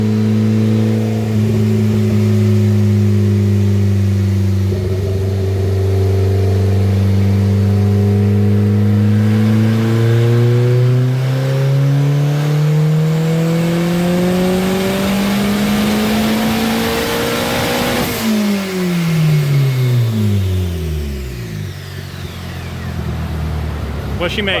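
A loud turbocharged Honda Civic D15 engine revs steadily higher over about twenty seconds, pitch climbing as it strains, then drops sharply as the throttle is released, close and continuous.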